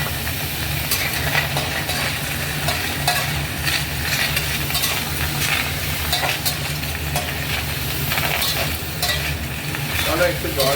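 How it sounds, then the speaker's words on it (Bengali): Pineapple being stirred into chillies already blackened in a very hot pan for pineapple chutney, giving a steady sizzle with spatula scrapes and stirring clatter throughout, close and fairly loud, with no voices. "এবার আমি আমার আনারসটাকে এটা মিশিয়ে দিচ্ছি"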